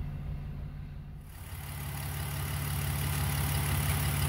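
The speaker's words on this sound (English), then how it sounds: "so I'm going to fire it up again and run it for another 15 minutes" A BMW E46 engine idles steadily during an engine oil flush, a low, even rumble with a constant hum that starts quieter and settles into a slightly louder, sustained idle.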